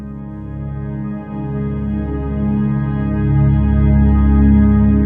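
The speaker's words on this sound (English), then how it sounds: "the additive oscillator combined with the vector oscillator to make this huge, epic cinematic pad" A huge, sustained cinematic synthesizer pad from Synthmaster 2, additive and vector oscillators combined, with thick layered harmonics, swelling slowly and growing louder over several seconds, with no voices.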